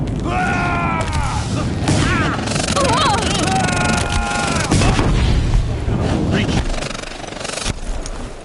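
Enemies firing in Horizon Zero Dawn on Ultra Hard mode, booming blasts and mechanical whirs over dense continuous game noise, with rising and falling machine tones layered through the loud battle mix.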